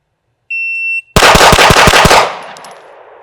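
Pistol shots at a shooting range: a shot-timer beep sounds, then after a short pause six or so loud, rapid shots crack in close succession and ring out into a fading echo.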